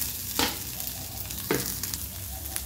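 Momo filling with ginger for paneer momos frying in a pan, a soft steady sizzle broken by two sharp stirring scrapes, fairly quiet and without talk.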